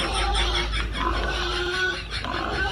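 Pigs grunt and oink repeatedly in a loud, busy stretch, with the grunts running almost continuously over a dense, noisy background.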